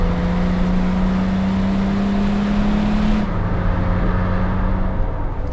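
A Mercedes C36 AMG's engine holds a steady, deep drone while driving, its pitch sitting level before shifting near the end, with a constant road roar underneath and no talk.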